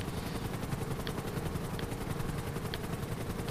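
A helicopter in the GTA 5 Online video game, heard as a steady rotor chop with continuous engine whine at moderate, even loudness and no talk over it.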